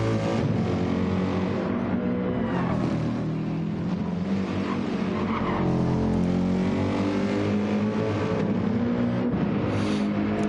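AMG race cars circling the Nürburgring GP circuit in Gran Turismo 7, a loud continuous engine roar with shifting revs and gear changes, several cars blending together.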